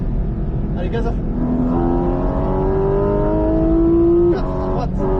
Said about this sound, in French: Et on accélère, gaz à fond.